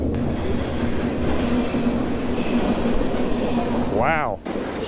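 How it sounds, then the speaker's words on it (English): A train rumbles over a bridge directly above someone fishing. The loud, steady rolling clatter and wheel noise go on throughout, and a descending squeal or whoosh comes near the end. "There's a train above my head."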